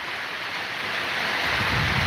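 Monsoon rain pours steadily over the fields of Kuntpur village in Surendranagar district, a dense, even wash of hiss that grows slightly louder toward the end, with no voices.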